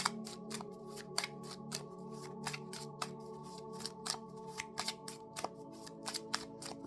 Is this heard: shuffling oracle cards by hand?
yes